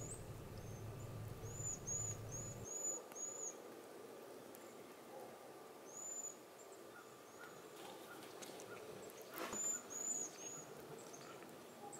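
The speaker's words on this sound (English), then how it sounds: "I like to open the windows and listen to the bird sounds" Songbirds chirp in short bursts of two to four notes through an open window on a winter morning, fairly distant and clear over a low steady background hum.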